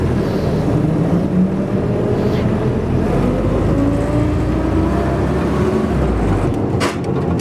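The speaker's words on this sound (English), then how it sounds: "Little four-cylinder engine." A restored 1948 Willys Jeep CJ-2A with its little four-cylinder engine runs at a steady, loud, close idle, a continuous low rumble with no talking over it.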